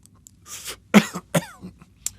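A few sharp, close coughs in quick succession, with a short throaty rasp between them and quiet gaps around.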